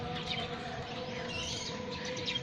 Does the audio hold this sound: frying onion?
no